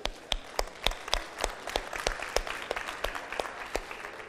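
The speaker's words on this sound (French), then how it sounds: "Vous pouvez vous applaudir." Audience at a hacker conference keynote applauding themselves, a steady wash of clapping from a large crowd with sharper individual claps standing out, sustained throughout.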